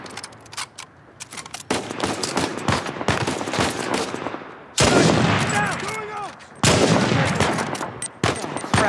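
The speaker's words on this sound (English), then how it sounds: "Wow, that was really bad shooting." Gunfire in the Uncharted 4 video game, with bursts of rapid shots crackling through a loud firefight, several heavy impacts breaking in, and a voice heard at times under the shooting.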